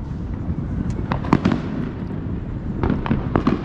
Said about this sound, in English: Free fireworks shows all night